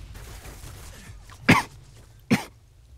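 A person gives two sharp, harsh coughs about a second apart, with a third starting at the end, close and loud over quiet background.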